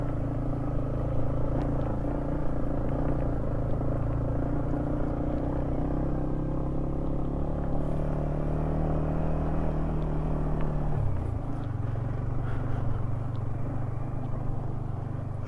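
A Yamaha MT-15 BS4 motorcycle is ridden at a steady pace, its engine droning evenly under wind rumble, with the pitch dropping as it shifts down or slows near the end.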